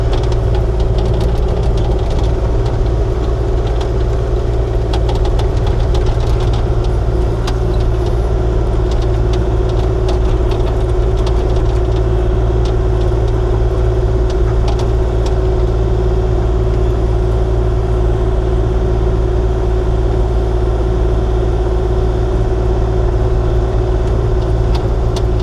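A Kubota KX040-4 compact excavator's diesel engine runs steadily at close range, a loud, constant low throbbing drone with a faint knocking texture that persists without pause.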